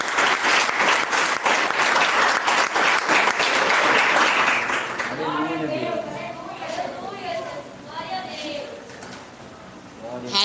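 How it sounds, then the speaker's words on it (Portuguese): Loud, dense applause from a church congregation fills the first half, then fades to scattered clapping beneath a voice speaking. "receber nossa irmã missionária Adriane Santos com mais palmas e mais glória a Deus."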